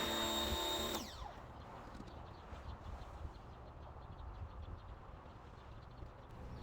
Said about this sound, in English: using the pressure washer to get the soap to be a little foamy, just for added lubrication when I do the contact wash